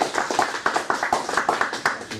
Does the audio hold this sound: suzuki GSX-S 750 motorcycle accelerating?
no